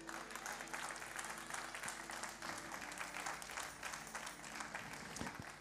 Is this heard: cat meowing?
no